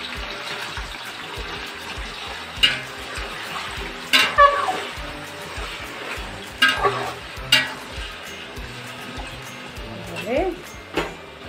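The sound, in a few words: chicken frying and being stirred in a pan for mixed biryani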